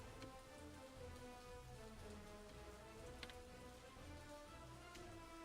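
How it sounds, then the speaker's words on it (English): Rain falling in a video game, a steady, soft patter of drops on surfaces with occasional sharper individual drips, quiet and continuous under a faint tonal game background. "Got some rain."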